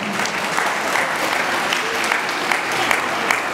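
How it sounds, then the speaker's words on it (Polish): Audience applause following an English waltz dance presentation at an event in Jankowice near Rybnik, a dense, even wash of many hands clapping steadily throughout. "Wielkie brawa za walca angielskiego."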